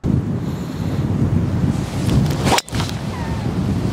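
Strong gusty wind on a golf course, roaring loudly and buffeting the microphone almost continuously, with one brief drop around the middle before the blustering resumes.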